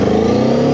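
A Cyclone RC600 motorcycle with a steel frame runs its engine in a steady, close, loud drone, with a deep cruiser-like tone and no pause in the brief burst.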